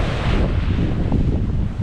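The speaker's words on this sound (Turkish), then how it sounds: "Bugün hava bayağı bir bozuk. Bayağı bir dalgalı." Rough, wind-whipped sea off the Turkish coast near a yacht harbor, with waves surging in a dense, continuous roar and heavy wind buffeting the microphone. No one speaks.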